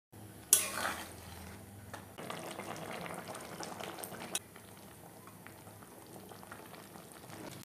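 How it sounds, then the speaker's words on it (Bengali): Chickpeas and corn for ghugni boil in a pot. A metallic clank and a splash open a steady bubbling simmer that continues alone, close and moderately quiet, with a few faint utensil taps. "এখানে কিছুটা সেদ্ধ করে তারপরে প্রেশারে দেবো"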